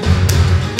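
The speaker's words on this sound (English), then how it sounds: "Now I've just kicked my phone straight off the bed." Phone kicked off a bed lands with a single dull thud. The thud sits under a steady low rumble, and two short bright bursts cut in around it.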